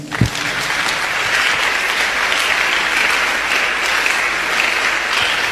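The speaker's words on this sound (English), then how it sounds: "I want to see you clapping only for Jesus." A church congregation breaks into loud, sustained applause for Jesus, dense clapping that starts abruptly and carries on evenly for several seconds with no talk over it.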